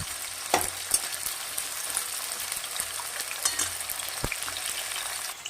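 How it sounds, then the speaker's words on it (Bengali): Potatoes frying lightly in oil in a pan, a continuous crackling sizzle with a few sharp clicks and scrapes of a utensil, close and moderately loud. "এইবার আলুটাকে আমরা তেলের মধ্যে দিয়ে হালকা করে ভেজে নেব, অল্প করে ভাজবো"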